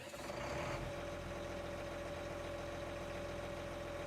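A tractor engine in a farming video game idles with a constant low hum and a faint tonal whine, unbroken and even throughout.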